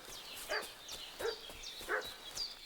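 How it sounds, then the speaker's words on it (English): A dog barks and yelps in Kingdom Come: Deliverance II, several short calls spaced about half a second apart, moderately distant against a steady ambient game background. "O dog tá latindo."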